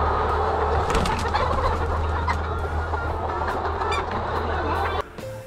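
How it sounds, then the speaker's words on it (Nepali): Thousands of layer hens in a commercial poultry farm make a dense, continuous chorus of clucks and squawks against a steady low hum, loud and close throughout, dropping away abruptly near the end. "दृश्यमा देखिराखिएको यो कुखुरा फार्ममा"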